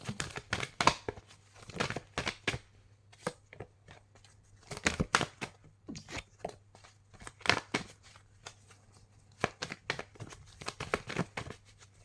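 A deck of oracle cards, a love reading, is shuffled by hand at close range in quick papery bursts of riffling and sliding, with brief pauses between them and no talking over it.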